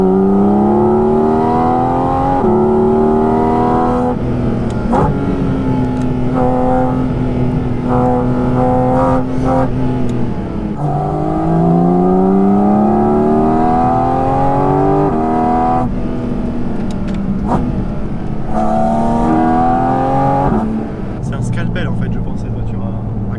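A Porsche Cayman GT4 RS with about 500 hp drives along country roads, its engine rising and falling through repeated revving sweeps and gear changes, loud and continuous in the cabin.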